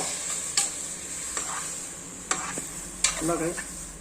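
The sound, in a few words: stirring chopped plantain in a pan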